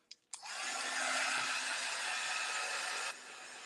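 A heat tool blows a steady, airy whir for about three seconds, drying embossing powder close by, then cuts off abruptly, leaving faint room noise.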